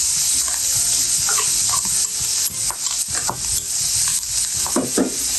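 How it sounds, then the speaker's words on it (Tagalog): Mushroom pieces sizzle and hiss steadily in a hot pan, with intermittent scraping and stirring knocks from a utensil, dense and continuous with no talk. "Idagdag na yung mushroom pieces. At igisa lang ng mga ilang minuto."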